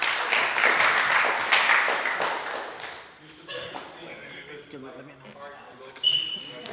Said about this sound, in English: Everybody, please, a big round of applause.